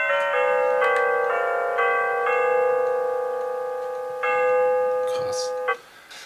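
Built-in gong chime of an Xrexs digital wall clock, a sequence of sustained electronic bell tones in a stepping melody that ring out and fade, followed by a brief rustle.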